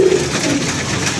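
Pigeons cooing in a loft kept by a Pakistani pigeon fancier, a low soft coo rising briefly near the start and again mid-clip, under steady background noise with no talk.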